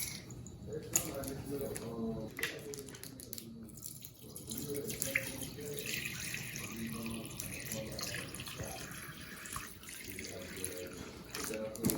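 Spring water runs and splashes steadily in a sink as sea moss is rinsed by hand, with a voice talking over it throughout.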